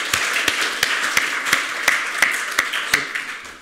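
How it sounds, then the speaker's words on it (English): An audience at a film awards ceremony claps for the nominees in sharp, evenly spaced beats about three per second, with a soft crowd wash between them. "it'd be great to give all of them a round of applause"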